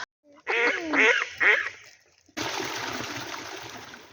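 A few nasal quacks from a duck in quick succession, close and clear, followed by a steady wash of water and outdoor noise.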